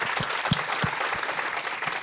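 An audience at a startup feedback session applauds a founder, a dense wash of many hands clapping with a few sharper individual claps standing out, moderately loud and continuous.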